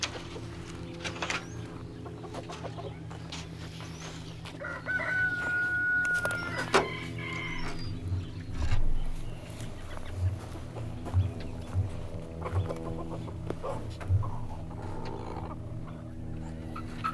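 A rooster crows on a farm, a clear cock-a-doodle-doo at mid distance, while other fowl cluck and a dog sounds faintly through steady outdoor background noise.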